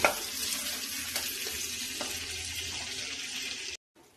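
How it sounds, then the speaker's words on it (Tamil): Two tomatoes sauté in a pan for crab curry, giving a steady, close sizzle with faint stirring scrapes throughout, then cutting off abruptly near the end. "ரெண்டு பழம் தக்காளி நல்லா வதங்கட்டும்"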